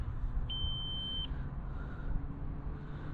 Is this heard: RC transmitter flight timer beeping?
yes